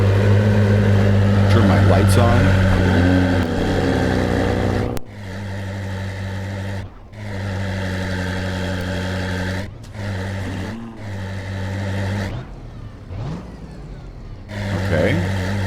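Car engine in the Roblox game Driving Empire cruising around town, a loud steady drone that rises and falls with throttle, cut by brief gaps, with someone speaking over it.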